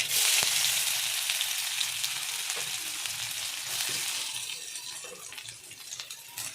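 Onion dropped into hot oil already crackling with mustard seeds, a loud broad sizzle that starts strong and slowly softens as it fries, close up with no talking.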